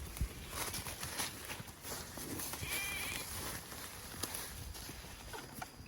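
Sheep bleat amid a herd of sheep and cattle being moved together on a farm, a few calls rising over a steady background of hooves and shuffling, moderately near.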